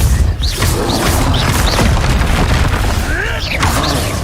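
Spell blast explosions in Hogwarts Legacy, dense and loud booming impacts layered over constant combat noise, with a voice heard over the din.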